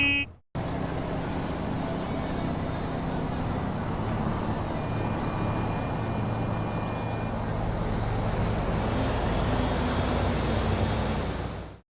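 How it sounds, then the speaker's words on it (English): Crowded street traffic in a Grand Theft Auto game: a continuous roar of car engines and road noise with scattered horn toots, busy and steady throughout. "Just listen to the sound of the cars and their horns."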